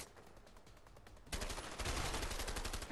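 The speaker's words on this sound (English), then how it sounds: "what's shooting me?" Gunfire in the video game A Way Out, a rapid string of shots first heard thinly in the distance, then a louder, denser volley of automatic fire bursting in close and sustained until the end.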